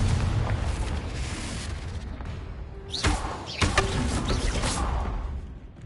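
A Confringo fire spell from the Hogwarts Legacy game bursts in a heavy, booming explosion that rumbles alone throughout, with a sharper blast partway through and a second surge right after it.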